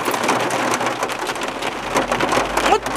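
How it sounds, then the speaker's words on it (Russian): Heavy rain during a storm in Spain pours down steadily and loudly, a dense continuous hiss of drops on surfaces with a low rumble building toward the end, no voices. "Ничего страшного, это дождь был. Охрененный дождь."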